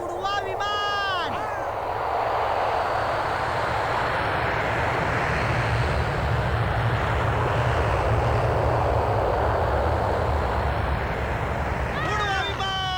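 A passenger airplane on the runway, a loud continuous jet engine roar building and sustained throughout, with brief whistling voices and chatter near the start and end.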